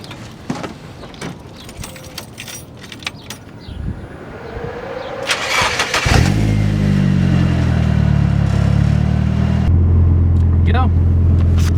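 A Nissan S13 fitted with an SR20DET engine starts and drives on the road, its engine settling into a loud, steady drone with a shift in pitch near the end, after a stretch of rustling and clicks inside the car.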